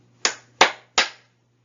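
An audience before a lecture on spam prevention claps three times in unison, three crisp evenly spaced claps in quick succession, alone with a low hum beneath.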